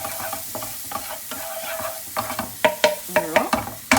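Shallots sizzling gently in hot butter over low heat, a soft continuous fry punctuated by a run of distinct utensil taps and scrapes on the pan, busier in the second half.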